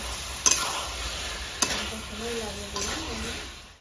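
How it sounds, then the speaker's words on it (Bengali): Eggplant pieces sautéing in gravy with potatoes for a rohu fish curry, with sharp spatula knocks against the pan over a low, steady sizzle while a voice talks in the background. "এবার বেগুনটা দিয়ে দেবো, বেগুনগুলো একটু কষে নেবো।"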